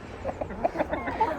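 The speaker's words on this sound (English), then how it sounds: "And all the chickens." Farm chickens cluck in short, soft, rapid bursts close by, a brief run of several calls over quiet background noise with no talking.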